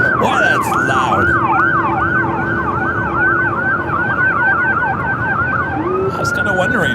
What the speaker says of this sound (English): We haven't heard much sirens here today.